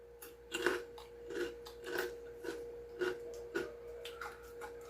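Close, crisp crunching bites of crispy pork skin chicharon repeat in a steady rhythm, with no talking.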